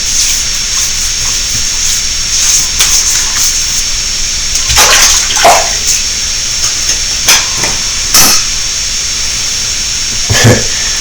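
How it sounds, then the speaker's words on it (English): Bar soap being worked into a lather for use as shave cream, wet rubbing and squelching strokes close up with a few sharper swishes, over a steady background hiss. "I'm going to just try and lather this up. See if I can use it as a shave cream."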